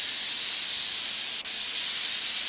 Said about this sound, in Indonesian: Debunya sebelah sini, kompres air. Kita semprot-semprotin, guys.